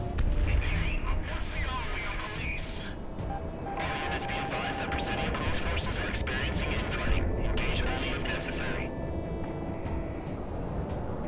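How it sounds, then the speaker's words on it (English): Missile hits and explosions in the Project Wingman jet combat video game form a continuous rumbling din of blasts and roaring aircraft engines, loud and dense throughout, with no clear gaps between impacts. "I got hit by my first missile."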